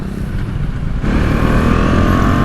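A Husqvarna Svartpilen 250 motorcycle being ridden, its engine a loud constant drone that steps up suddenly partway through and holds heavier, with wind rush, no talk.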